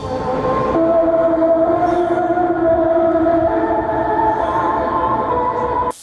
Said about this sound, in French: il y a les sirènes qui retentissent partout dans le pays pour réveiller la population